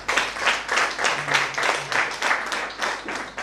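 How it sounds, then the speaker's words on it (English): A workshop audience claps in a steady, rhythmic unison beat, roughly three claps per second, close and even throughout, with a faint voice briefly underneath. "Clap for your neighbor."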